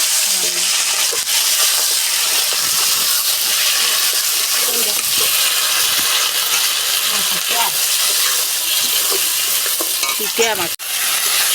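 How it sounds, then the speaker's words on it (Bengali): Fish fries in hot oil in a wok with green chili, a loud continuous sizzle and hiss close by, broken by occasional stirring scrapes and clinks. "একটু করে কাঁচা লঙ্কা দিয়ে ভাজি।"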